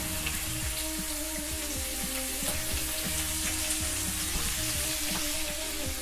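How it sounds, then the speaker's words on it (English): Beef sizzles in hot oil in a pan seasoned with adobo pepper mix, a steady close crackling fry with scattered pops and occasional stirring clatter, no voices. "Drizzle our oil into a hot pan."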